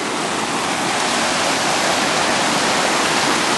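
A river rushes steadily and loudly close by, a constant broadband wash of flowing water with no pauses and no voices.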